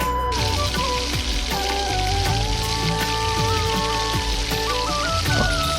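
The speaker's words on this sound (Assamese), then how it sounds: "এতিয়া আমি স্লাইচাৰেৰে লাহে লাহে এনেকৈ লৰাই দিম" Chinese-style pot fry is stirred slowly in a hot pan with a slice, under a loud, dense sizzle that crackles like rain, while scattered scrapes and soft clinks from the utensil cut through.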